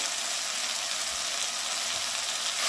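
Broccoli curry sautés in a pan for a vegetarian Bengali dish, giving a steady, close, dense sizzle that hisses evenly throughout, with no talking.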